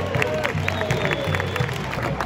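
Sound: stadium crowd applauding

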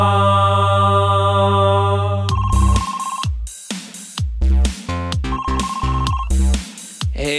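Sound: telephone ringtone

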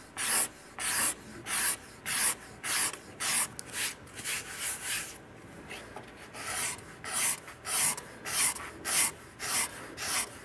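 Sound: steel scraper smoothing wooden archtop guitar top

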